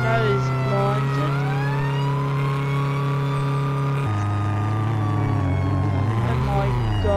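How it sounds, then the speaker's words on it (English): An ambulance siren in the Greenville roleplay video game wails loudly and steadily, its rising and falling tones sweeping without a break throughout, near and dominant. "Get out of the way of this ambulance."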